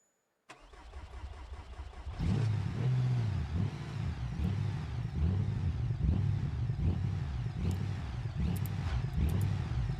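Car engine in BeamNG cranking over and catching, then settling into a rough, loping idle with rhythmic surges from a blower supercharger, steady and fairly loud throughout.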